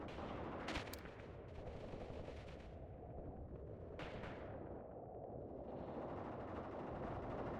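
Sustained gunfire from a WW2 combat simulation game, Mius Front, with dense overlapping rifle and machine-gun bursts rattling continuously as a platoon moves up, loud and unbroken with sharp cracks standing out.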